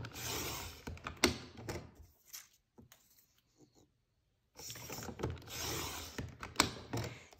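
Scissors cutting blue scrapbooking paper into half-inch strips, a run of close crisp snipping and rustling, a quiet pause, then another burst of cutting.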